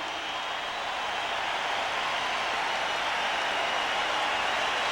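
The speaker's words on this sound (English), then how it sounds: "Listen to this crowd." A large basketball playoff crowd in a 1987 Boston Celtics versus Milwaukee Bucks game roars steadily through a timeout, a dense, continuous wash of cheering with no breaks and no clear talk above it.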